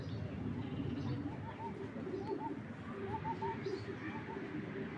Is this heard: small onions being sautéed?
no